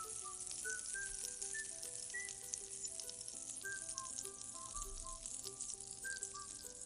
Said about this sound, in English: followed by chilies, garlic, and ginger, and nicely saute them